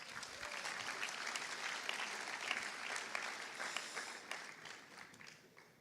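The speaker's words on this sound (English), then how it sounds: "a round of applause for them while they get set" Applause at a school graduation ceremony in Qatar: a broad, steady wash of crowd clapping, fairly far off and soft, holding for several seconds before tapering away.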